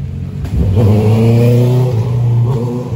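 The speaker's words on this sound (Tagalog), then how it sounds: "Kotse mo ba yun?" A car engine revs loudly and steadily, a low rumbling drone that rises in pitch and holds for nearly three seconds, close by and with no talk over it.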